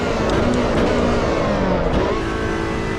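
A race car in the Assetto Corsa Evo racing game roars loudly down a straight under hard acceleration, engine tone climbing and then easing off as it brakes, continuous and close with no voices.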